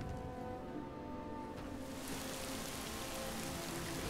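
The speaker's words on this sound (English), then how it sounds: "it was raining yesterday morning and it's still raining now" Steady rain falling in the Skyrim video game, a continuous soft patter of drops on surfaces that swells slightly midway, even and unbroken with no voices.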